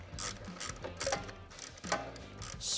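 Ratchet wrench tightening a passenger comfort peg mount on a motorcycle, a series of quick close clicking strokes in short uneven bursts, fairly quiet and alone.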